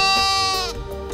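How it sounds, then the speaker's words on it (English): An orphaned lamb gives one long, close, loud bleat with a wavering, nasal tone that tails off after about a second. "it's allowing Lammy to go back with the flock of sheep"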